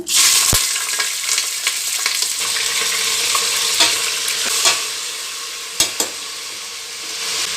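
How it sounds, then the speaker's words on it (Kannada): Steady loud sizzle of chicken dropped into hot oil in a pressure cooker, crackling continuously with a few sharp pops and scraping stirs, close up. "ಈಗ ಚಿಕನ್ ಸೇರಿಸ್ತೀನಿ"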